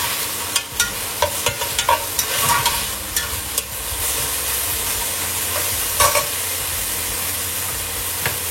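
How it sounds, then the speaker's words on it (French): Fish curry being stirred in a hot pan after soy sauce is poured in, a constant sizzle and hiss with scattered scraping clicks of the utensil against the pan. "je vais mouiller avec la sauce soja. Je mélange le tout."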